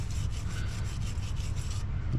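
A brush scrubs back and forth inside a 2003 Chevy Cavalier, giving a close, rhythmic rasping swish in quick repeated strokes.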